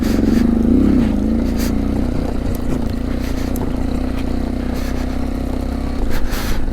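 Motorbike engine revving hard while crossing a rocky stream on the way to Rainbow Lake at Domel, a loud rough drone with clattering and scraping bursts as the bike bounces over stones in the water.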